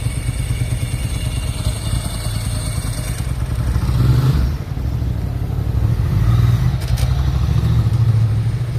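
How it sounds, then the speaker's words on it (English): A Ducati motorcycle engine idles and revs on a street in Palermo, Italy, a loud, close, rough throbbing that swells twice before settling back. "That Ducati sounds terrible."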